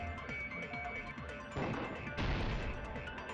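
In the Danganronpa 2 video game, a vase shatters twice over steady background music: one crash, then a second, louder smash about half a second later.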